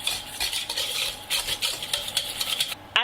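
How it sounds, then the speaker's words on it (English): Butter and sugar whisked for brownie batter, a close, brisk rhythmic scraping and clinking of a whisk against a bowl, continuous for a few seconds with no talking. "And I'm also going to add the sugar. And give it a good whisk to mix everything through."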